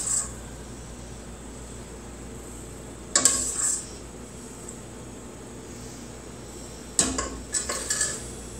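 A knife strikes a cutting board twice as cooked plant-based bacon strips are chopped, giving short clattering knocks with a light metallic clink over quiet kitchen background.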